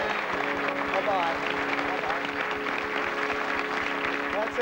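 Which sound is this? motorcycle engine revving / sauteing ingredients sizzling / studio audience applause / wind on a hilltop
studio audience applause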